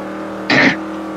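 A car engine in the racing game Forza Motorsport 5 gives a short, loud revving burst over a steady low hum, lasting under a second before dropping back.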